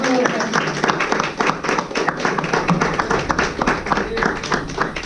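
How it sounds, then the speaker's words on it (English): Audience applause at a Juneteenth press conference, a dense steady patter of many hands clapping with voices mixed in underneath, continuing without a break. "Give another round of applause"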